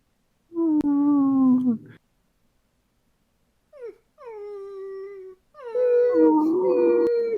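A person vocally imitating a dog whining, three drawn-out, wavering whimpers and howl-like cries separated by short pauses, close and fairly loud.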